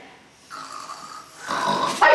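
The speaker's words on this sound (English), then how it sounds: "I hear snoring." Slow snoring breaths rise and fall, a quiet rasp then louder nasal snores, ending in a sharp snort.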